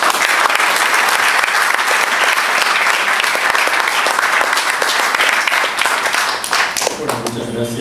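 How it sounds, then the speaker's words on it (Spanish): Warm audience applause at a commemorative event for the poet Javier Heraud as a speaker is welcomed to the panel: loud, sustained crowd clapping that fades near the end, when a voice begins speaking. "le brindamos un cariñoso aplauso"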